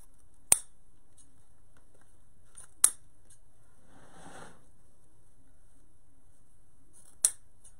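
Scissors snip ribbon tails for a Valentine's wreath, three sharp, isolated close cuts spread out in a quiet room.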